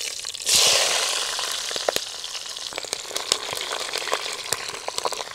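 Green chillies dropped into hot oil with tempering spices for a river pomfret curry, a sudden loud burst of sizzling that settles into steady frying with sharp crackles and pops, no voices.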